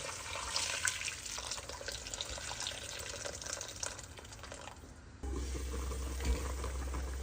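Boiling water pours into a pot of chicken mandi. A steady splashing, rushing stream runs close and continuous for several seconds, then gives way to a lower, fuller bubbling sound.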